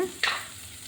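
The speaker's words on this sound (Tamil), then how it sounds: "வெங்காயம் தக்காளி நல்லா வதக்கிறேன்" A short burst of sizzling and stirring as onion and tomato sauté in a hot pan, close by, with a scrape near the start fading into a steady low fry.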